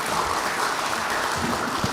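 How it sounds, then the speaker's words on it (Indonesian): Applause from an audience at an Indonesian traffic police meeting with Commission III: a steady, dense wash of clapping filling the room for a couple of seconds, fairly loud and close, with no talk. "tepuk tangan dulu buat kita semua"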